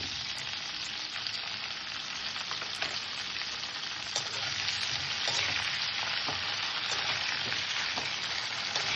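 Tomatoes frying in a pan for a ridge gourd chutney, a loud, steady hiss of hot oil with intermittent stirring scrapes running throughout.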